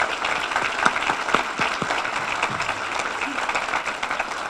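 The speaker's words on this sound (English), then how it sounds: "If you all would stand up and get a round of applause too." A brunch audience of university foundation and alumni supporters applauds, giving a dense, steady round of clapping that holds at an even level throughout.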